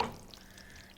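Pesto gets stirred into hot pasta for a whipped ricotta and pistachio dish, with a brief wet sizzle-and-scrape burst up close that fades quickly into a soft hiss.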